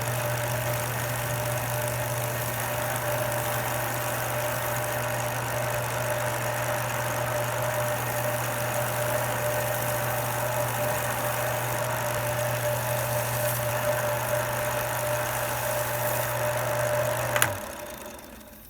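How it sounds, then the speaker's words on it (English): A wood lathe spins slowly while burnishing a firewood billy club, giving a steady low hum with a faint rattle, close and unbroken, then a short knock just before the motor cuts out near the end. "So I've slowed the lathe down, so I don't really need any speed for this."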